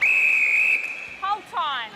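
A referee's whistle sounds one long, sharp blast at a netball match, followed by brief crowd or voice noise.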